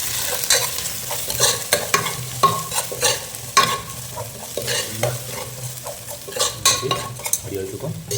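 Masala sizzles in a pan for fish curry while a utensil stirs and scrapes it, giving steady frying hiss under repeated close clinks and scrapes, with no talk.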